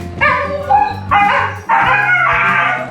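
Dogs vocalize close by in a run of loud, drawn-out yelping barks with a whiny, howling edge.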